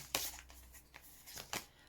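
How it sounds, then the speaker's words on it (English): A large tarot deck being shuffled, giving a few quick papery riffling bursts separated by brief pauses, close and fairly quiet. "So this is how I have to shuffle this deck"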